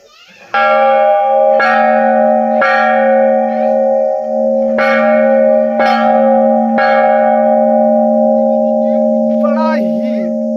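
A large bell at a Hindu temple entrance rings loudly several times at an even pace, each strike blooming into a long, humming metallic resonance that lingers.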